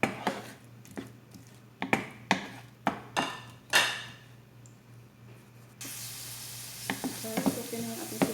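White onion sautéing in a pan for ginataang kundol, with a run of sharp spatula knocks and stirring scrapes over a low hum, then a steady, brighter sizzle swelling up near the end.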